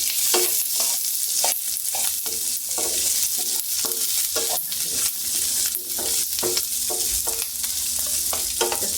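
Finely chopped onions fry in a hot pan for millet poha, a steady loud sizzle broken by repeated scraping strokes of a spatula stirring the pan throughout.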